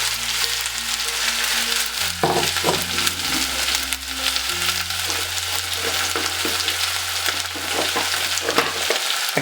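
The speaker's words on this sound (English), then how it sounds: "that oil is pretty hot now, and I've got all my ingredients chopped and prepared from earlier, so I just want to put those in" Chopped ingredients for a chicken and mushroom miso soup hit hot oil in a pan, giving a loud, steady, continuous sizzle and crackle that lasts throughout, with occasional stirring clatter and no talking.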